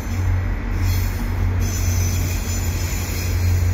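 Via Rail passenger train of older European-built Renaissance cars crossing the Atwater Bridge in Montreal, a steady loud rumble and rolling roar with a faint high squeal, continuous throughout.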